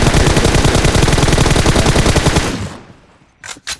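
Rapid automatic gunfire from a battle royale video game rattles loud and continuous for about two and a half seconds, then breaks off into quiet, followed by two short sharp bursts.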